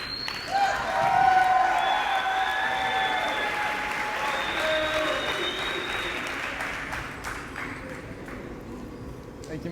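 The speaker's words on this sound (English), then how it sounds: "Let's keep that applause going" An audience applauds for a speaker, a sustained dense clapping that swells early and slowly thins, with a few bright ringing tones and some talk running beneath.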